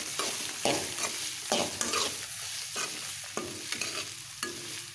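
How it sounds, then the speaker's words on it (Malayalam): Grated coconut roasts in a pan, stirred in repeated rhythmic scraping strokes over a soft continuous sizzle, close and clear with no talk. "ഇത് നല്ല ഗോൾഡൻ ബ്രൗൺ ആവുന്നത് വരെ നമ്മൾ വറുത്തെടുക്കണം."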